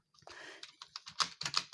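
Keyboard keys clatter in quick uneven bursts while a player controls Roblox Jailbreak on a computer, the taps close and fairly loud with no voices over them.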